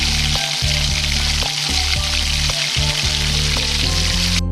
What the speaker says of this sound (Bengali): এবার আমি এক এক করে ভেজে নেব